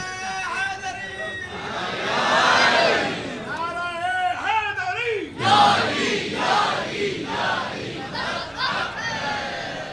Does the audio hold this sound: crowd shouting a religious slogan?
yes